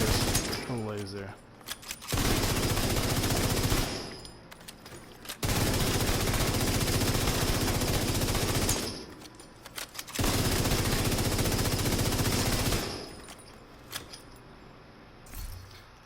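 The Bighorn gun in a video game fires in three long, loud bursts of rapid automatic shots, with short quieter gaps and rattling clicks between them.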